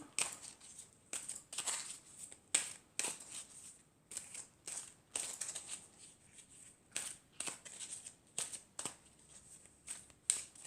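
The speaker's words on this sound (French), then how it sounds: "je vais tirer quelques cartes" Tarot cards are shuffled and drawn in a series of quick crisp riffles and flicks, close and moderately quiet, with brief pauses between bursts and no talking.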